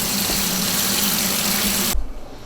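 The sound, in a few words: water filling a pot of soaking black beans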